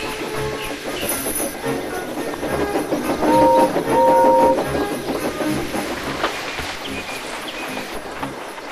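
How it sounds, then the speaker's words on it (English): A model railway locomotive and its express train run along the rails, with a steady rolling clatter of wheels throughout and a brief whistle-like tone in the middle, fairly close and with no talk. "Henry and Gordon would take it in turns to pull the express from the big station to the mainland and back again"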